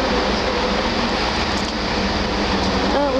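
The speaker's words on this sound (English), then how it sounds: "we've got off at Reading train station now." Train noise at Reading station in England: a steady, loud broadband rumble of rail carriages with a faint tonal hum, continuous throughout and with no talk.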